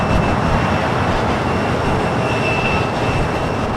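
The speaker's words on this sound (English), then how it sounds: "787-9 Dreamliner." A Boeing 787-9 Dreamliner arriving at Los Angeles International Airport from Frankfurt gives a steady, loud jet roar with a faint high whine on top, continuous and unbroken, no talking.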